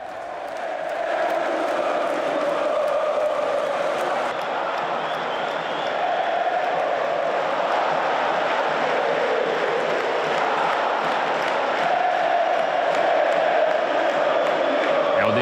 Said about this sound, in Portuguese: A torcida canta lá o Dali Mengo, seremos campeões.